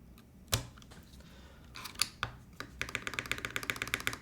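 A Milan TKL keyboard in top mount with lubed and filmed J-Wick switches is typed on up close. A few scattered clacks lead into a quick, even run of crisp keystrokes.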